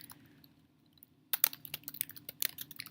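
A sentence typed on a computer keyboard: after a quiet start with a low hum, rapid, close key clicks come in an uneven run, with no voices.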